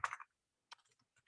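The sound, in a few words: typing on a computer keyboard in a chat box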